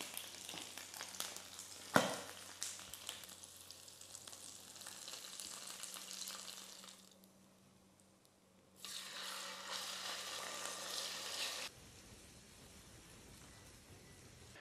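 Pork belly (liempo) sizzles and fries in oil in a pan, with a steady crackle, a sharp clatter near the start, a brief quieter lull, then louder sizzling before it drops off.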